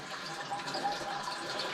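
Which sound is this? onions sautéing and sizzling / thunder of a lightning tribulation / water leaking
water leaking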